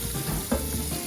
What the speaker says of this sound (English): open up the package, put it on cold water, and just start rinsing it while you open it.